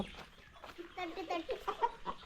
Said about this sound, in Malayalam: അമ്മ കോഴീനെയും പിടിച്ചു നിൽക്കുന്നത്